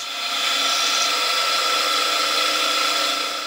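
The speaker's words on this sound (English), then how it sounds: "I successively enlarged the hole with 8mm and 10mm drill bits." A drill bores into an aluminum hydraulic pump part for a handmade RC excavator, enlarging the hole with 8mm and 10mm bits. It makes a steady, close, high whine that lasts a few seconds, with no talk.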